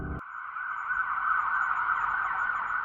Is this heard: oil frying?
no